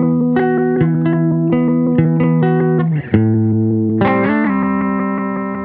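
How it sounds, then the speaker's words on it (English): Effects-processed synth or keyboard chords through an ACV1 pedal set for a Leslie-like rotary modulation, loud sustained tones with swirling warble and distortion shifting between chords, with no talk. "I found a sound on the ACV1 that I liked a lot better for this."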